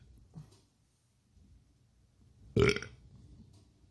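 A single loud, close burp after a sip of Tooheys Extra Dry beer, short and guttural, following a faint earlier gulp in an otherwise quiet room.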